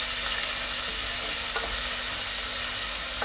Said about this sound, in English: The onions are being fried